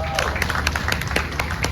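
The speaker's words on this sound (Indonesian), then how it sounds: "Tepuk tangan untuk Pak Leon." An audience at an inclusive bazaar event claps in a steady patter of applause, while a voice talks over the clapping.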